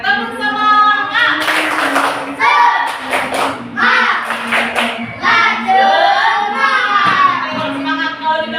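A third-grade class claps the tepuk semangat rhythm in bursts of quick, close hand claps, with children's voices chanting and calling between the patterns.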